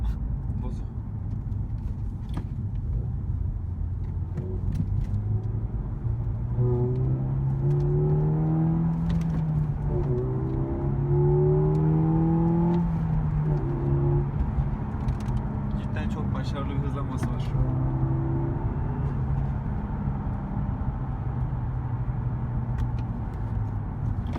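A Peugeot RCZ 200 HP engine rises in pitch as it accelerates, a steady whirring drone climbing through the gears, with faint voices underneath.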